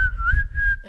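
A person whistles one sustained, slightly wavering tone that holds steady for just under a second, close and clear, with no one talking over it.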